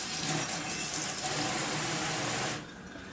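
A kitchen faucet runs in a steady broadband rush to wet a knife while California rolls with crab are being made, the flow cutting off sharply near the end.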